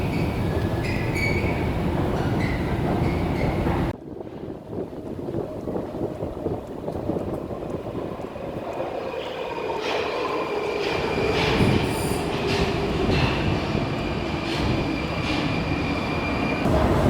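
A Prague metro train runs underground with a loud, steady rumble and roar of wheels on rails, rising hiss and faint squeal as it moves through the tunnel, no voices heard.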